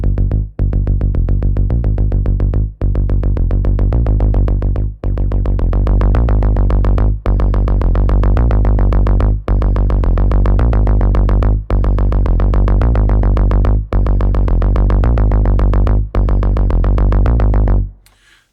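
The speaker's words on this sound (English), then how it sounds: "the further I push drive, the more we're going to hear this effect happen" A looping musical phrase runs through Logic Pro's ChromaGlow magnetic tape emulation with the drive pushed high. It sounds dense, loud and saturated, with brief dropouts every couple of seconds, and no voices.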